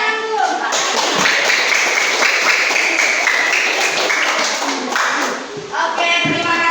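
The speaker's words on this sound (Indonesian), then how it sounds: "Oke, tepuk tangan dulu." A classroom of students claps together during a science lesson on force. The dense, steady clapping fills the whole stretch and fades briefly near the end before swelling again.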